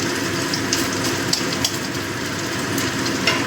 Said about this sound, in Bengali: আদাটাকে একটু ভেজে নেব, আদার কাঁচা গন্ধ চলে যাওয়া পর্যন্ত